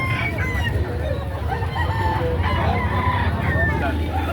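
A bullstag rooster crows and clucks amid a busy livestock auction, with other fowl calling around it in a steady, crowded din and low background noise, with people talking.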